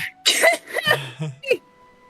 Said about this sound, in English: I coughed so loud it censored me.